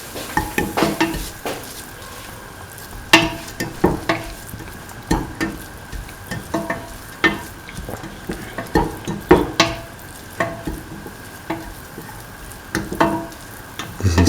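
Carrots sautéing in a pan, with repeated spatula scrapes and knocks in an irregular rhythm over a steady frying sizzle, close and fairly loud.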